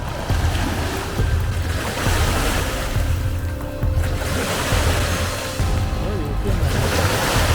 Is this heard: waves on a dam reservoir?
yes